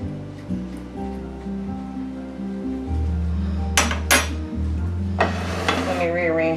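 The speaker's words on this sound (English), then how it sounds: "I'm gonna go ahead and just spread that around in the pan like so." Artichoke dip mixture being spread around in a pan, with close metallic scraping and clinks of a utensil against the pan over a steady low hum.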